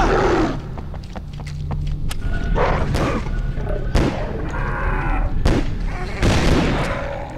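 Shotgun blasts in the PS2 survival horror game ObsCure, several sharp loud booms at irregular intervals over a low continuous game backdrop, with a few thuds between shots.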